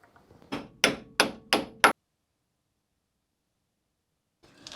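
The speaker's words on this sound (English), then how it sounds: "I'm gonna hammer in a new oil seal." Four sharp metallic hammer blows drive a new oil seal into a Lada Niva, evenly spaced and close, followed by a pause of near silence before faint workshop noise returns.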